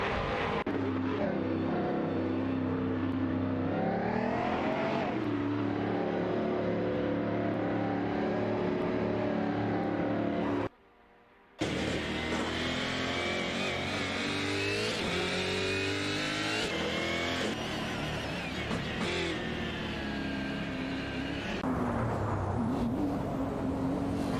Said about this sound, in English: Kamikaze 38 in the Lamborghini Huracan GT3 and Ayarafe in the Audi Rate LMS Ultra are neck and neck